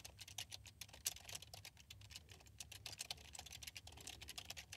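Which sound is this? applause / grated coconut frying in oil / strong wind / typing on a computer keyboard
typing on a computer keyboard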